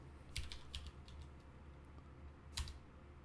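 Someone types a command on a computer keyboard, a few quiet, scattered key clicks in a near-silent room, with short pauses between strokes and no talking.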